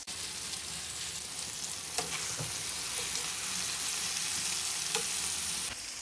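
Potato fingers fry in a kadai with cumin seeds and lemon just added, giving a steady, close sizzle with a few faint clicks and stirs and no voices.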